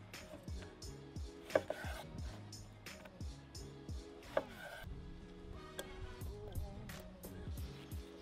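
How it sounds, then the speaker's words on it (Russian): Kitchen knife slicing a lemon into wedges on a cutting board, a series of quiet, irregular cuts and taps against the board, close and faint. "Еще один лимон нарезаем дольками и также помещаем в лимонадник."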